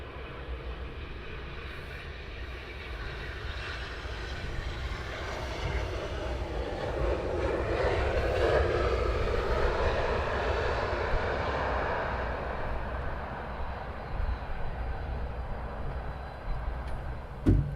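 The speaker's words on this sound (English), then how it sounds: "Nice approach, landing by Blue Air, as you can see by the crosswind there." A Blue Air airliner lands in a crosswind at Luton Airport on an early morning, its jet engines roaring steadily for the whole stretch and swelling slightly toward the middle before easing off, with no voices.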